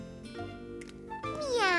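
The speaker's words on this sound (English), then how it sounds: "Gilbert's a kitty cat, not a person" A cartoon kitty cat named Gilbert meowing, a childlike voice giving a drawn-out meow that rises and bends in pitch, close and clear.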